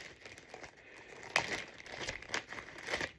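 A plastic bag holding yarn ball band instructions crinkles up close, with a steady rustle broken by several sharper crackling bursts.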